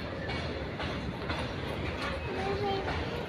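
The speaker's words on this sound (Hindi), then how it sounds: "देखिए पीछे हमारी ट्रेन जा रही है" A passenger train runs past on nearby tracks, giving a steady rumble with faint clacking and a brief squeal. It continues beneath a person speaking in Hindi.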